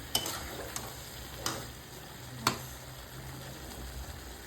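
Spices stir-frying in a pan for a jackfruit curry, a quiet steady sizzle with a few sharp spatula taps against the pan, no talk.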